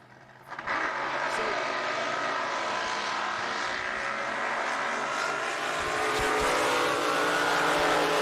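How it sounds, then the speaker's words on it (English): A hydroplane race boat powered by a Keith Black Chevrolet engine roars steadily past at a San Angelo drag boat race, the loud continuous engine note rising in after a brief quiet start, with an announcer talking over it. "That boat's a watercraft hydro powered by a Keith Black Chevrolet"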